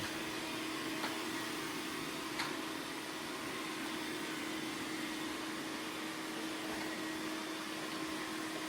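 Dreame robot vacuum and mop cleaning a floor near a small carpet, a steady, even whirring hum with a faint tonal whine that holds unchanged throughout, with a couple of tiny clicks and no voices.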